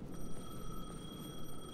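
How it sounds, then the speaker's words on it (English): A payphone rings in the video game Alan Wake 2, with a steady electronic ring sustained throughout over a low ambient rumble, no voices. "The payphone was ringing."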